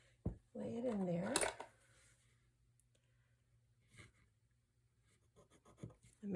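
A pen or pencil makes a quick mark on paper while a gusset is fitted for a scrapbooking folio. The soft scratchy strokes follow a stretch of talking.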